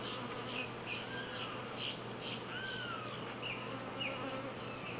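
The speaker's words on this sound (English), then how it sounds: "I have to knock all these bees off" Honeybees swarm around an opened beehive during a hive inspection, a dense steady buzz with individual bees whining past close to the microphone, quiet and continuous without speech.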